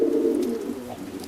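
An Oriental Roller pigeon coos in a steady, low, throaty rolling call close to the listener, alone with no talk.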